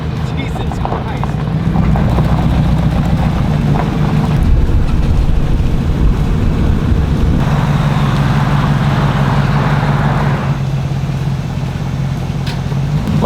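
A custom Mad Max style trike with a V8 engine rumbles steadily on a test drive, a loud, continuous low drone with shifting revs, while people talk over it.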